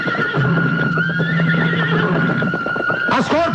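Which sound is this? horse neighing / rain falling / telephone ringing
horse neighing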